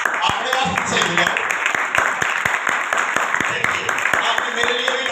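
Live audience in a hall applauding for themselves, a steady dense wash of clapping with sharp individual claps throughout and a few voices mixed in.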